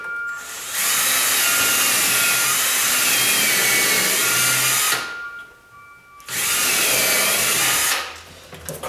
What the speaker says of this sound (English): that's why I like to use the impact drill.